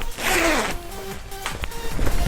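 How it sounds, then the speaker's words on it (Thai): A zipper is pulled along a navy long-sleeve work jacket with grey piping, giving a close rasping run that ends in a few softer tugs and rustles; someone briefly speaks at the start. "เดี๋ยว เรามาลูดซิป กันดู ดีกว่า นะคะ"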